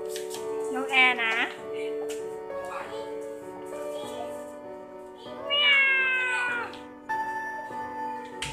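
A child imitates a cat, giving a few meow-like cries close by, separated by pauses, with quiet indoor background.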